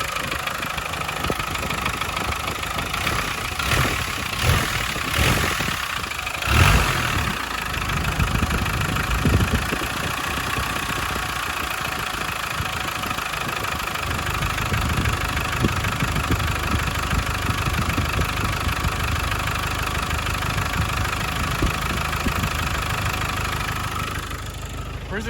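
A Land Rover Discovery 200TDI diesel engine idles continuously at a constant low rumble after a fuel injection pump repair, with a few brief knocks and clatters early on before settling into an even drone.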